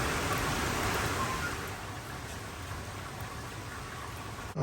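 Steady hiss of rain falling, a continuous even wash of sound with no voices.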